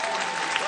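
Brief burst of audience applause at a stand-up comedy show, a dense, steady wash of many hands clapping close in the room with no talking over it.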